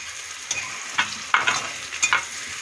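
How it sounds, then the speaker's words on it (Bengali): Onions fry in a pan for a tangra fish curry, with a soft sizzle under several distinct scraping stirs of a spatula spaced about half a second apart, close and clear, with no voices. "পেঁয়াজটা আমার ভাজা হয়ে গেছে,"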